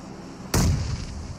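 A single sudden, booming grenade blast in PUBG over a steady background hum, with a short rumbling tail that fades quickly.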